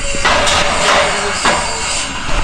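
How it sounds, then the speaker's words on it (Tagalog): A few loud, sharp metallic hammer strikes spaced irregularly over a noisy, echoing background, with no speech. "Martilyo."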